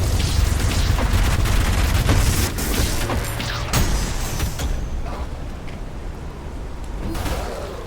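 Loud, booming explosions from the fast-paced shooter game ULTRAKILL, a dense barrage of heavy blasts and crackling bursts that fades out and then swells again at the end.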